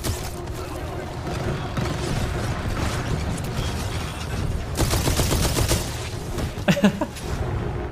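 Combat gunfire from the video game Titanfall 2, with sustained rattling weapon fire and mechanical clatter, denser bursts and sharp impacts in the latter half, continuous and fairly loud throughout.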